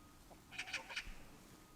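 Chickens at a pension in Jeju give a short burst of clucking, three or four quick nasal calls, fairly faint against a quiet outdoor background.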